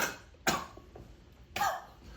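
Two separate coughs, close and fairly loud, about a second apart, with quiet pauses around them.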